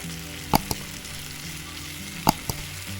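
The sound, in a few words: onions frying in pan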